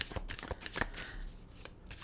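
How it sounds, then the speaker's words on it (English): A deck of tarot cards is shuffled by hand in quick, papery riffles and flutters, close and fairly loud, with no speech. "But we'll shuffle that in,"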